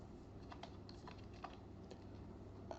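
Soft, quick keystrokes on a computer keyboard as a name is typed, a short irregular run of quiet clicks over a steady low room hum, with no talking.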